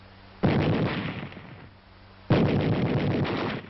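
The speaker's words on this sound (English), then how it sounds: "A machine gun." A machine gun fires in two long, sustained bursts, loud and dense, separated by a short pause. The sound is dull and muffled, as on an old historical film track.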